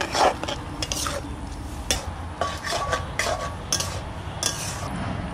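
Pumpkin greens (kumro shak) being stirred in a pan while cooking village style, with repeated scraping clinks of a utensil against the pot over a soft sizzle, fairly quiet and close.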